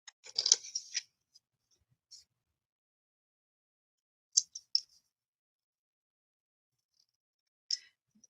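Scissors snipping paper for a Halloween junk journal craft, a quick flurry of close crisp cuts, then a few isolated snips separated by long silences.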